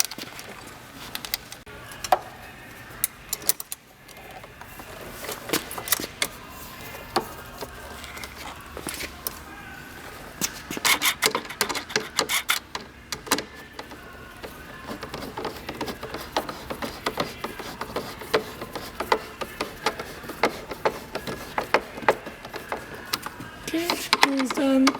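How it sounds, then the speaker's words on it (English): Screws being tightened into the bottom of a Skiron Model 121 capsule bike basket, heard as scattered small clicks and mechanical ticks over about 25 seconds, fairly close, with a muffled voice at times. "Finish tightening all the screws in the bottom."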